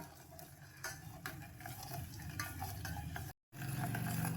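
Steady scraping and stirring of palm jaggery dissolving in water in a pan, with a soft bubbling sizzle underneath, close and continuous, with a brief gap near the end.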